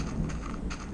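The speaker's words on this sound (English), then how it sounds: "If you can hear the thunder, it's really ripping out there." A video-game thunderstorm churns with steady heavy rain and a low rumbling undertone, dense and continuous throughout the brief moment.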